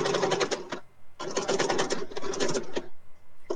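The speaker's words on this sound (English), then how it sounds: "Now my sewing machine is acting up." A sewing machine runs in fast rattling bursts, stopping briefly between runs, close and fairly loud, with no talking.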